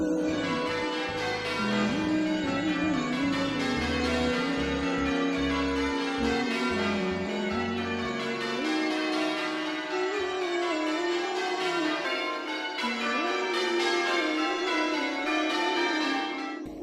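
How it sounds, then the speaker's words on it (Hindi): Church bells ringing as a Christian call to prayer, a dense, continuous wash of overlapping chimes and sustained tones, loud and steady throughout with no voices. "ईसाइयत में भी अजान के तौर पर इस तरह से घंटियां बजाई जाती थी।"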